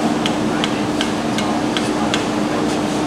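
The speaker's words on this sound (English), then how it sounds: "we started up a competition to who could forge the best masonry nail knife out of one tiny masonry nail" A hammer strikes hot steel in steady, evenly spaced blows while forging a knife from a masonry nail at a hammer-in gathering after a blade show, each clang ringing over a constant roar of background noise.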